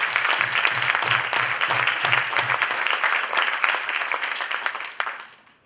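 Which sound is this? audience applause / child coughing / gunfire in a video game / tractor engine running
audience applause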